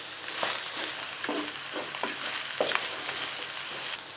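İçli köfte filling with pepper paste is fried in a pan, giving a moderate sizzle broken by several short scraping stirs and soft clatters, close by with no talking.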